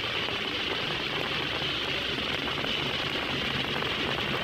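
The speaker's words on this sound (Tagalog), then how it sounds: "Ulan kaayo." Heavy rain falling steadily in traffic on a jeep, a dense, even hiss with no let-up throughout.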